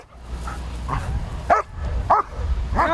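A police dog barks in a handler demonstration at the Massachusetts State Police Headquarters, giving about five sharp barks spaced roughly half a second apart, close and loud over a steady low rumble.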